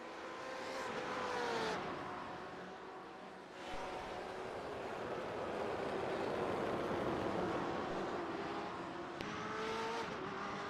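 GTE race cars lap Sebring in a sim racing game, their engines droning and rising and falling in pitch as they accelerate and shift, with the steady, fairly faint roar of several cars running close together.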